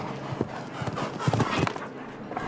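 Hooves of a big, rangy, long-striding show jumper in a timed Hallmark Elite round, a series of dull thuds on the arena footing in an uneven galloping rhythm, heard over steady crowd and ambient noise.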